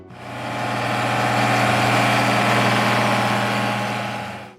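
A John Deere 4020 diesel tractor idles with a steady, low, rumbling chug, fading in at the start and out at the end, loud and close, with no voices.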